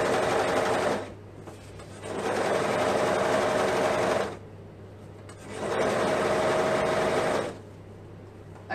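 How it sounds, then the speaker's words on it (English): Sewing machine stitching stretchy t-shirt fabric for a cuff, running in three steady loud bursts separated by quiet pauses. "So as I sew, I'm really gonna pull the yellow to stretch"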